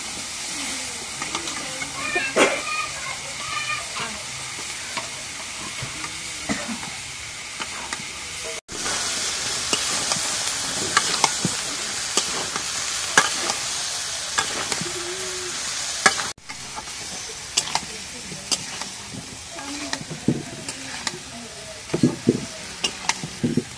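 Potatoes sizzle and hiss in a pan of cooked-down spice masala, stirred repeatedly with scraping and clinking, a steady close frying sound throughout.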